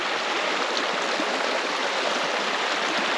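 A creek flows just behind a campsite in cold weather, giving a steady, even rush of water that holds unchanged throughout at moderate loudness.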